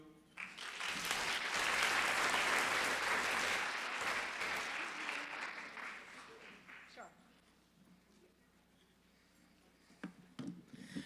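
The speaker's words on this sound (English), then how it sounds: "Give them a round of applause." Audience applause after student speakers at a middle school information session, a sustained burst of clapping from a room of listeners that swells early, then gradually thins and fades, with a few scattered claps near the end.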